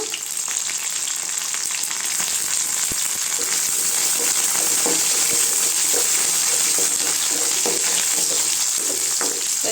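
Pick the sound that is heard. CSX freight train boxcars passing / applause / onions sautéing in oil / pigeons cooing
onions sautéing in oil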